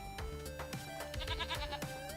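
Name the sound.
goats bleating in the video game Farming Simulator 25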